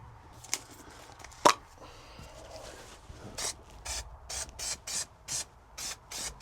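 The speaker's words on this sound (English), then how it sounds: "So the plan is just to use this spray adhesive" A can of spray adhesive fires a series of short, sharp hissing bursts, eight or so in a rhythmic run, while van insulation is being glued outdoors, with a couple of earlier isolated sprays and a faint thump.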